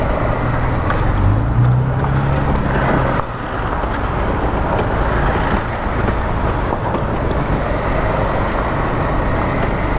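Busy Istanbul city road traffic rumbles loudly and continuously, with engines of cars and heavier vehicles blending into a dense, steady roar close by.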